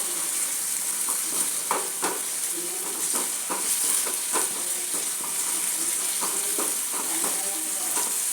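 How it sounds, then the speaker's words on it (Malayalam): Crushed onions sauté in a pan for a curry, giving a steady close sizzle broken by irregular scraping stir strokes, with no one talking. "ഉള്ളിയിട്ട് നന്നായിട്ട് വാടി വരണം"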